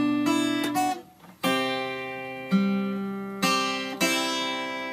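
Fingerpicked guitar chord pattern from a song, close and clear, with ringing notes and a brief pause before the picking resumes over sustained chords.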